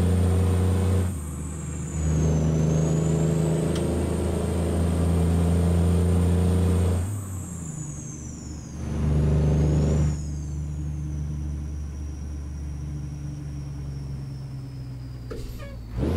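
Heavy truck engine in American Truck Simulator pulling an HC hay and feed bulk trailer, a steady loud drone under load with shifting pitch and brief changes in intensity, no talk.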